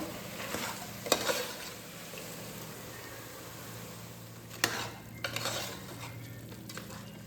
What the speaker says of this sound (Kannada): ಈ ಮಸಾಲೆ ಕೂಡ ಚೆನ್ನಾಗಿ ಹಸಿ ವಾಸನೆ ಹೋಗಬೇಕು, ಅಲ್ಲಿವರೆಗೂ ಸ್ವಲ್ಪ ಎಣ್ಣೆ ಬಿಟ್ಕೊಳ್ಳೋವರೆಗೂ ಫ್ರೈ ಮಾಡ್ಕೊಬೇಕು.